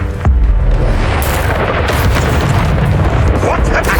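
The Incendio fire spell cast during a duel in the video game Hogwarts Legacy: a sudden whooshing burst followed by a loud, sustained roaring blaze of fire and combat effects filling the whole moment.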